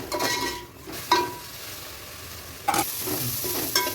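Onions fry in a pan for a Maharashtrian chicken curry, crackling softly and steadily while a spoon scrapes and clinks against the pan in a few sharp stirring strokes.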